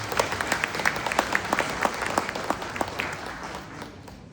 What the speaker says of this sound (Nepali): धन्यवाद दिँदै ताली बजाइदिनु होला